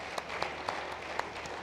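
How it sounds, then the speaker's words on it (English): Audience applause for panelists at a capital markets conference in Lagos, a steady patter of clapping from a crowd with a few sharper nearby claps standing out, moderately faint and without talk. "I'd like us to give our panelists a round of applause."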